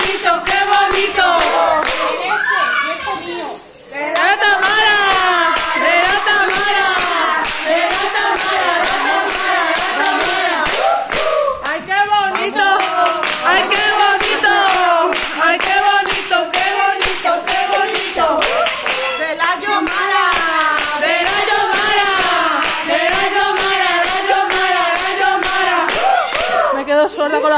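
Guests at a baby party clap in rhythm, keeping a steady beat under loud, continuous group singing the whole way through.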